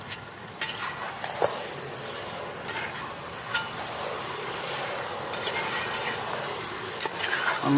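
Chicken is stirred through sizzling oil with onions in a pan during village-style pepper chicken cooking. A steady fry crackle runs throughout, with scattered scrapes and taps from the stirring utensil and no talking.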